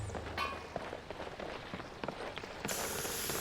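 Rain falling in the video game Skyrim VR, a steady pattering hiss of drops with scattered soft footstep-like thumps, moderately faint and continuous, with a brighter wash rising at the end.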